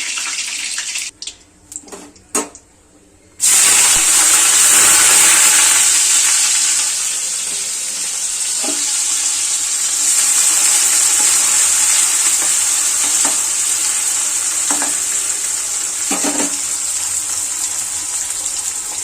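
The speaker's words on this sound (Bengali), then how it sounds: "এটা এবার লাল লাল করে সুন্দর করে ভেজে নেব।" Onion fries and is stirred in a pan: after a few quiet knocks, a loud sizzle bursts in and continues steadily, with occasional scraping stirs.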